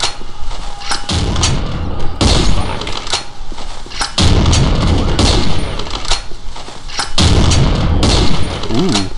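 A plasma launcher firing repeatedly in Postal 2, heavy booming blasts and thuds in irregular bursts with impacts and chaotic game noise, loud and close throughout.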